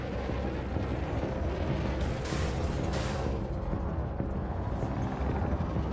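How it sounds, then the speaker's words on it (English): Five frag cannons on a small ship in a space combat video game fire at point-blank range, a dense continuous roar of rumbling blasts and booms with no talk. "Five cannons at point blank."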